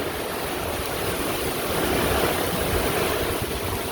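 Hurricane Idalia's wind roars in a dense, unbroken rush at night, loud and close, with a steady broadband howl and no voices.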